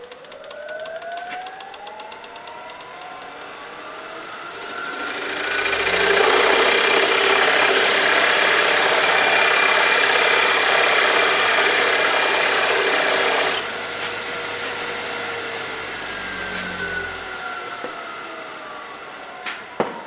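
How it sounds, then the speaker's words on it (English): A carbide tip salvaged from a 10-inch Skil saw blade scrapes a deep scoring line for a saw cut in a pencil holder project, a loud steady rasp lasting about eight seconds over a faint constant background hum. "I'm just going to score it deep enough so that the saw will follow the line"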